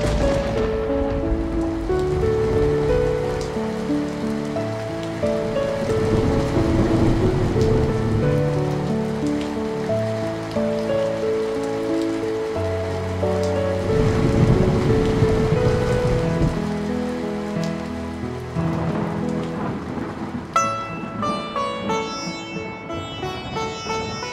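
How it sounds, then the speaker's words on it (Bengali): Rain falls steadily as an effect in a Bengali audio drama, a broad continuous patter layered with low music tones and swells, no voices, with a brighter tinkling texture entering near the end. "দুপুর থেকে বৃষ্টি শুরু হয় সেদিন।"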